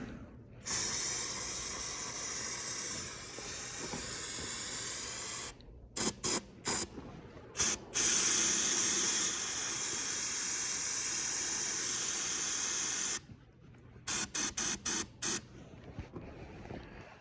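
Ether starting fluid sprayed from an aerosol can onto a corn planter: long, loud, close hissing blasts, then a run of short stuttering spurts, a second sustained spray and more quick bursts, with no talk.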